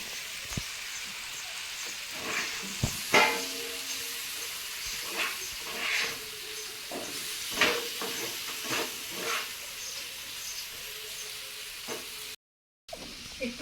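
Fish fries in a pan with a soft, hissing sizzle. Intermittent scrapes and clatters come from handling the pieces, all fairly quiet and close.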